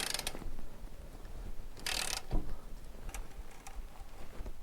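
A ring spanner turns a nylock nut on a track rod end ball joint of a 2014 Lotus Evora, giving close metallic clicks and ratchety scrapes with a brief louder grinding burst partway through. Nobody speaks.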